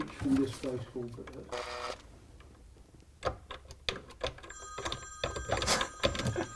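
A telephone rings in a model railway room, its repeated electronic trill rising in the second half. Speech and clicks from work on the layout come earlier, and talk continues alongside the ringing.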